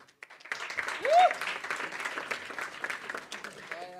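Crowd at a football federation event applauding and cheering, a broad wash of clapping that swells briefly and then holds steady behind a voice speaking over it.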